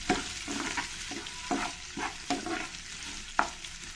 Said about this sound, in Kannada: ಈರುಳ್ಳಿ ಫ್ರೈ ಆಗ್ತಿದೆ.